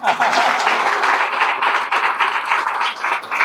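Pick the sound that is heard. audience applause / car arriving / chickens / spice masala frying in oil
audience applause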